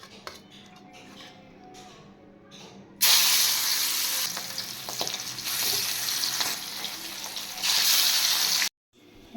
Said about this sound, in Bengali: এবার আমি বোয়াল মাছগুলো ভেজে নেব।